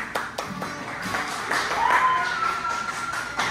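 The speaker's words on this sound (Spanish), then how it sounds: "Los aplausos de la gente lo dicen todo" Audience in a restaurant clapping for a boy singer, a short burst of scattered close claps with some voices mixed in.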